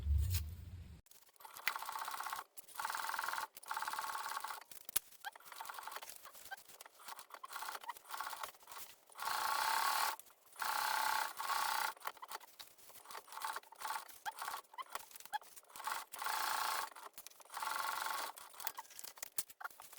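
Sewing machine basting along three edges of a laptop bag, bursts of rapid mechanical stitching chatter in short and longer runs with pauses between, close and fairly quiet.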